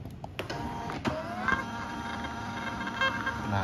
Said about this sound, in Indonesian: Setelah itu kita langsung print ya.